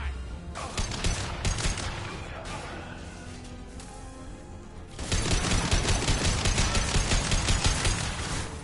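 Gunfire during Mass Effect 2 Legendary Edition combat, rapid automatic bursts early on, then a sustained loud stretch of steady repeated shots in the second half, with someone talking over the action.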